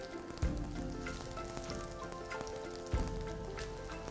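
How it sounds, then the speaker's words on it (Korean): Garlic and peperoncino sizzle in olive oil in a pan with a steady crackling hiss, near and moderately quiet, broken by a couple of soft knocks and no voices. "이때 주의하실 점은 불을 너무 세게 하셔서 마늘이나 페페론치노가 타지 않게끔"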